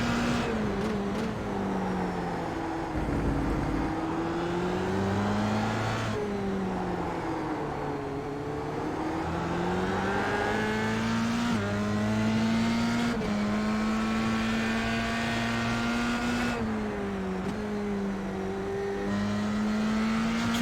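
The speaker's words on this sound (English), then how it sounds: "Tricky little car to control this Dallara Formula 3" A Dallara Formula 3 race car engine in the iRacing sim heard from on board, loud and steady, its pitch climbing and dropping repeatedly through upshifts and corners, with no voices.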